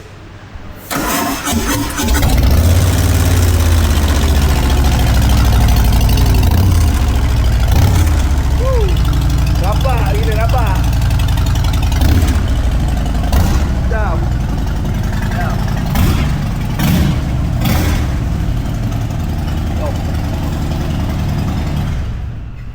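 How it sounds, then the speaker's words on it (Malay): A Harley-Davidson Dyna Big Bear motorcycle with a standard exhaust cranks, fires up and settles into a loud, deep idle that rumbles on for about twenty seconds, with voices faintly in the background. "So kepada yang tak pernah dengar exhaust standard macam mana, kita start sekejap."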